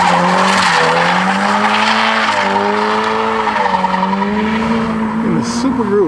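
Subaru drift car coming in hot with a sustained, loud tire squeal and engine drone, the wavering pitch rising and dipping as it slides, close and continuous throughout.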